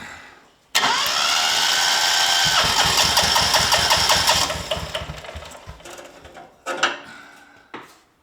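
An old lawn mower engine, left sitting in long grass for years, is pull-started and bursts into loud running for several seconds, then sputters and dies with a few weak coughs.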